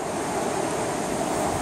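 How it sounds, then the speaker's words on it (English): Loud, continuous rushing rapids on the Nolichucky River fill the clip, a broad turbulent roar with no pauses. "Hit some really rough water down here"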